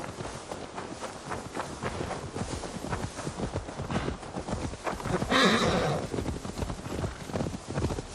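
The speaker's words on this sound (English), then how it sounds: "Now to deliver Magni his horse." A horse in the Assassin's Creed Valhalla video game gives a loud neigh midway, over steady clip-clop of hooves that runs throughout.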